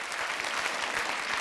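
Theatre audience applauding at a live stage show, a steady dense wash of clapping that fills the whole moment with no voices on top.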